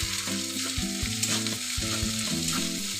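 Ginger fries gently on low heat in a pan with no water added, a soft continuous sizzle and light stirring beneath a steady tonal hum.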